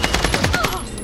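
Rapid automatic gunfire in the Warzone shooter on Rebirth Island, a steady rattling stream of close, loud shots with no gaps.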